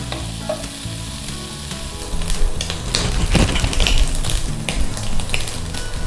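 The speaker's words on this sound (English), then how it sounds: "we're just going to give those a quick stir fry too" Dried shrimp stir-fried in a hot pan, a loud continuous sizzle and crackle that swells partway through as the spatula keeps tossing, close up with no talking.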